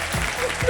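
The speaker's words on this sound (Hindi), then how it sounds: "जोरदार तालियां इस आदमी इस औरत के लिए।" Studio audience applause on a Wheel of Fortune game show, a short burst of steady clapping at moderate volume.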